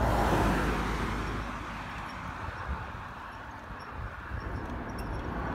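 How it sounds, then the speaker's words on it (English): Road traffic rumbles along a busy UK road, a car passing loudly near the start and then easing into a steady low wash of engine and tyre noise. "As people can see, there's traffic around."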